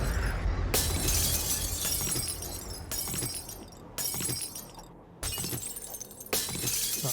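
Repeated glass panes shatter in the game 7 Days To Die, about five sharp crashing breaks a second or so apart, each followed by a tinkling decay, with no talk.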